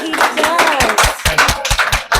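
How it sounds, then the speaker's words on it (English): A small group claps together in a room during a staff in-service, with sharp scattered claps running steadily for about two seconds while a voice speaks over them. "He deserves a round of applause"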